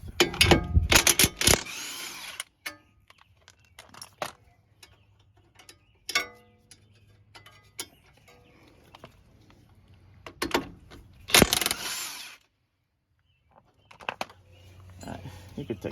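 Sharp bursts from a power tool and ratcheting clicks sound as bolts come off a Ford Fiesta front wheel bearing assembly, with metallic clinks between bursts and quiet pauses.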